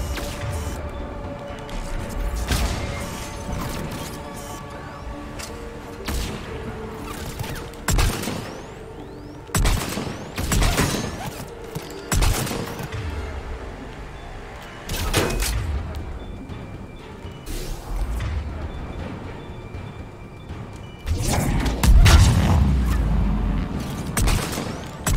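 An enemy turret fires during Mass Effect 3 combat, heavy booming shots and impacts spaced irregularly across the clip, some loud and close, over a steady low mechanical background.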